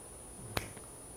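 A single sharp hand clap, made with the elbows bent during a golf swing lesson, rings out once with a crisp snap and stands alone with no talking around it.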